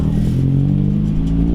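A Miata-engined Datsun roadster revs while driving off, a steady close engine drone with strong low harmonics that holds through the short moment with no talk.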